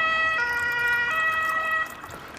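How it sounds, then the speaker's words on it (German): Ambulance siren sounding loud and steady with a wailing tone as the vehicle passes on a city street, then dropping in level near the end. "Ah, jetzt kommt der Krankenwagen."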